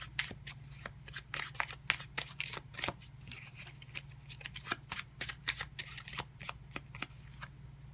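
Tarot cards being shuffled and drawn from a deck, a steady run of crisp, close riffling flicks and slaps repeating quickly over a low constant hum, with no talking.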